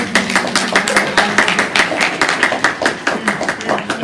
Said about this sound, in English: Let's clap for Mel